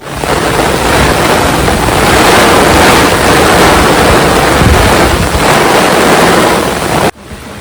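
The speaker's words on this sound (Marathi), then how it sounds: "जोराचा वारा आहे बघा तुम्ही बघू शकता." Strong wind roars loudly into the microphone, a continuous rumbling buffet that cuts off abruptly near the end.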